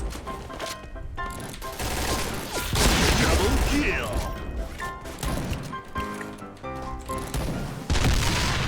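Rapid gunfire bursts from a Thai Point Blank video game shooter, a loud run of shots with clanking weapon mechanics, played throughout under busy game sound with a voice talking over it.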